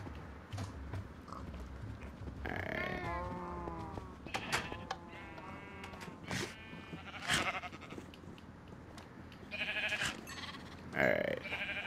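Sheep in Minecraft bleat repeatedly over a low game ambience, several wavering baas scattered across the stretch, some overlapping, alongside occasional clicks and thumps.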